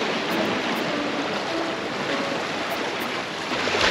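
Ocean waves wash steadily against a Japanese shoreline at night during firefly squid season, forming a constant close hiss of surf with no clear individual breakers and no voices.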